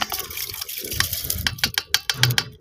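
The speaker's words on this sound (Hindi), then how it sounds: "साथ ही हम इधर चावल ऐड कर देंगे अपने" Rice goes into hot water in a cooking pot for sweet jaggery rice, making close splashing and watery trickling with scattered pouring sounds and a few sharper splashes near the end.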